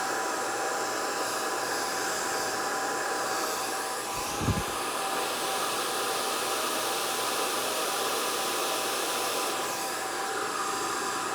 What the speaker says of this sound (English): I'm putting the blow dryer right behind the brush